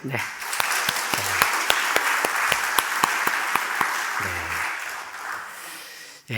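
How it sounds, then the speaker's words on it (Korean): Church congregation applauding after a choir performance at a worship service, a broad steady round of clapping with a few sharper claps standing out, and voices briefly heard at the start and near the end. "다시 한번 우리 박수요."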